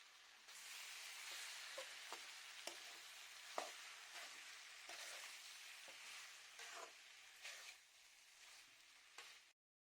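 Boiled bitter gourd stir-fried in a pan gives a steady soft sizzle with intermittent scraping stirs and clicks of the spatula, close and quiet, ending abruptly in silence.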